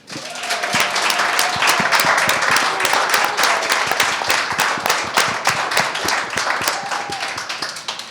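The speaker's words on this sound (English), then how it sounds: "I want to give a big round of applause for our panelists" A conference audience applauds steadily, dense clapping holding strong for several seconds before tapering slightly.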